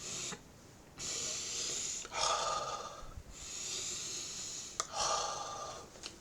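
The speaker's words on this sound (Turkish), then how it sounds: "Derin nefes al ver." Slow, deep breaths drawn in and let out, heard close up as a few long airy rushes separated by short pauses, with no talking.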